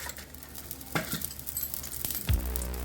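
Cumin seeds frying in hot ghee for a rice and moong dal pulagam offering: a soft, steady sizzle with a few sharp crackles and a brief spoon scrape near the end.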